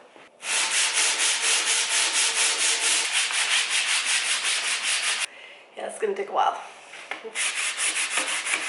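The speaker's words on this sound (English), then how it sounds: "I'm not sanding outside in the winter." An electric sander whirs loudly and steadily with a gritty scraping texture on a mid-century modern tabletop indoors, pausing briefly while someone speaks, then starting up again.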